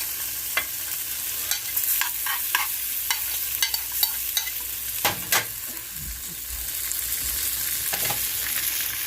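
Onions sizzle in a frying pan with butter while being stirred, a steady hiss broken by repeated sharp scrapes and clacks of the utensil against the pan, close and fairly loud.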